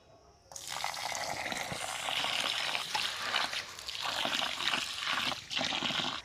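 Store-bought mustard seeds being rinsed in water, a steady splashing and running-water wash that starts abruptly after a brief quiet moment and continues close and loud with small surges.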